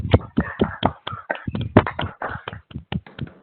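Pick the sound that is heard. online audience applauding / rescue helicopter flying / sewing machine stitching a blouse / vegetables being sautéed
online audience applauding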